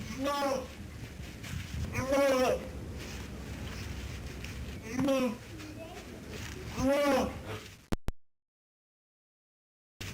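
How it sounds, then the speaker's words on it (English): A baby gnu calls out repeatedly from just outside a zoo nursery near children, giving several loud, drawn-out moaning moos spaced a few seconds apart, with a brief clatter before silence at the end. "This baby, Gnu, is mooing at some children outside the nursery."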